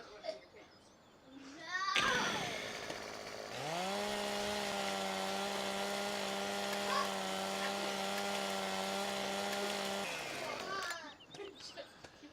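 A chainsaw in Farming Simulator 17 revs up and holds a steady buzzing drone for several seconds while felling a tree, then cuts off, with children and an adult talking faintly before and after.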